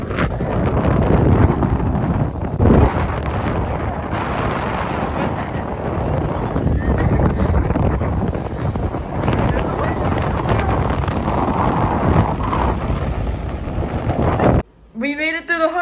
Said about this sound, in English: it's kind of windy though